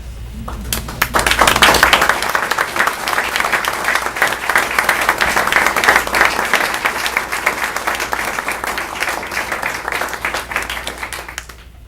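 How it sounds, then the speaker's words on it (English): Sustained applause from a large standing audience at a school board meeting fills the room, steady and dense for several seconds before tapering off at the end. "let's stand and give them a round of applause"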